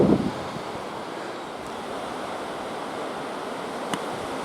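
Strong wind buffets the microphone on a golf course at Heythrop Park Resort during a DGS Tour round, a steady loud roar with gusty rumble throughout and no voices.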